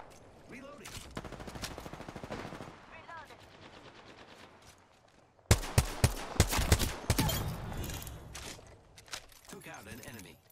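Rapid shots from a G7 Scout rifle in a shooter game ring out in quick repeated bursts, softer at first, then much louder and sharper midway. A voice talks intermittently over the firing.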